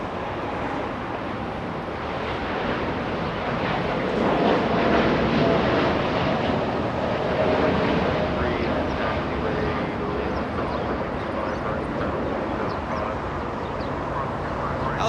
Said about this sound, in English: That was a very late rotation by that Dreamliner.